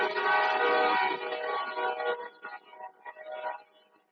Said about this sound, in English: oh, the hazards of having a train track close to your house.